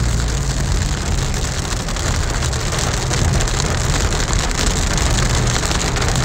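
Heavy summer monsoon rain in Big Bear, California pours down and splashes onto puddles in a loud, steady, dense roar with no pauses or voices.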